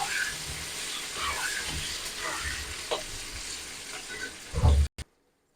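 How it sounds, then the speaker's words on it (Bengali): Pieces of pointed gourd fry in hot oil while being stirred, a steady close sizzle with scraping strokes that ends in a couple of heavy knocks. "পটলগুলোকে আমি নেড়ে চেড়ে একটু লাল করে ভেজে নেব।"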